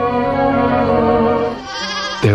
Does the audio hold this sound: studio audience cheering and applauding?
no